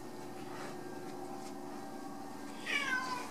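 A cat gives one short, fairly close meow near the end, preceded by a steady low indoor hum with no talking.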